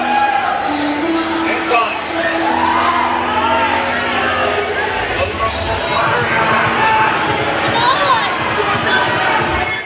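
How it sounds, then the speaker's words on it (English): Angry crowd at a chaotic Australian concert, a loud, continuous mass of shouting and jeering with scattered yells and thuds beneath a few sustained tones. "now the crowd have got so angry that they've started throwing things"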